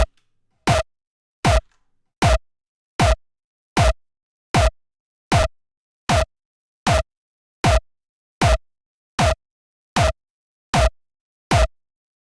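A pogo-effected club kick layered with a punch plays as a steady repeating pattern of sixteen or so short, hard hits with pitch-dropping tails, evenly spaced in a dry, silent background.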